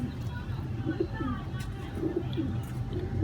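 Pigeons coo in low, repeated throaty phrases close by, with someone speaking underneath.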